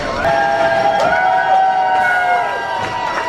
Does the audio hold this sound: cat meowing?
no